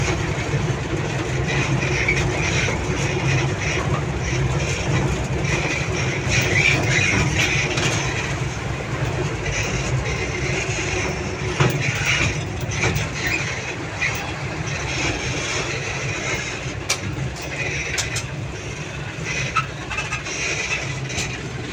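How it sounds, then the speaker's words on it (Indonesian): A train shunts loaded sugar wagons, producing a continuous loud low rumble of rolling rail cars with intermittent metallic clanks and clicks, heard alone for the whole stretch. "kereta akan mengambil jalur yang lurus ke belakang untuk mendorong lori gula isian terus ke depan ke arah gudang gula penyimpanan."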